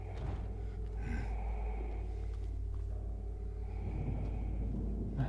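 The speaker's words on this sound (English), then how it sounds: "Yeah, heavy breathing." Heavy, labored breathing in the Silent Hill 2 Remake horror game, with rasping breaths and gasps rising over a constant low rumbling ambience throughout.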